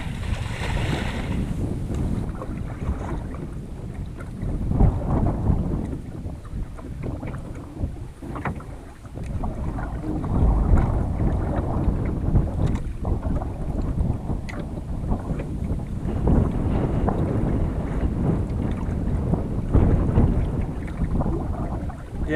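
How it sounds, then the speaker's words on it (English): Strong wind buffets the microphone in a constant low roar at a lake in the Alaska wilderness, gusting louder and softer throughout with no voices. "God, it's so windy out."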